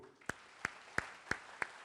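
Five separate hand claps, evenly spaced and fairly faint, from an audience at a business leadership seminar, with no voices.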